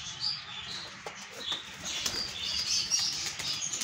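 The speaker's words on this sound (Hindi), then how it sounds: "ये उड़ के चले गए हैं बाहर" Pigeons flap their wings as they fly out of a coop, a burst of fluttering wingbeats with light chirps, close at first then thinning out over a few seconds.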